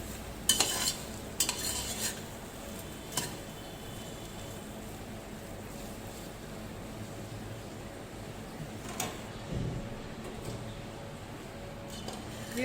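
A utensil stirs aloo bharta in a pan, giving soft scraping and a few sharp clinks and knocks against the metal, close and moderately quiet, with only faint background sound between strokes.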